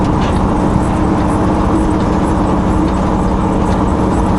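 Snow chains on a vehicle's tires while driving up a steep snowy road, a loud dense rattling rumble mixed with engine and road noise, steady and continuous from inside the cab.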